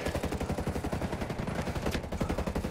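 Rapid automatic gunfire in the tactical shooter Ghost Recon Breakpoint, a continuous stream of heavy, booming shots in quick rhythm, loud and sustained with no talk over it.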